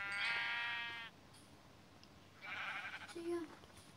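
A sheep in the Minecraft video game bleats twice, a long clear bleat followed by a shorter, rougher one after a pause, fairly faint and alone.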